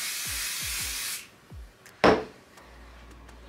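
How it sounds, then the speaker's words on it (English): An aerosol can of temporary spray-and-bond adhesive releases a steady, fairly loud hiss for about a second, then goes quiet before a short sharp tap and some light handling noises close by. "So I have this spray and bond temporary adhesive. This is from Walmart. And I'm gonna spray this"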